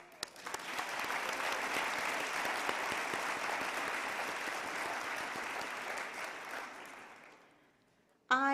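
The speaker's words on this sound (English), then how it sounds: "I would also like us to just take a moment to applaud all the Lifeworks community members featured in" Sustained applause from the crowd at the 2023 Lifeworks annual celebration honors community members, a steady wash of many clapping hands lasting about seven seconds before fading out, with a voice starting at the very end.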